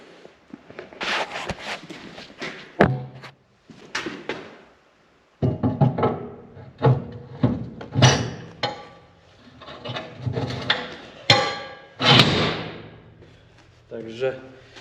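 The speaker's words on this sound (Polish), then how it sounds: "Zaraz wsadzę imadło." A vise goes onto a workbench with a string of knocks, clunks and thuds of metal and wood, irregular and close, between brief pauses while someone talks throughout.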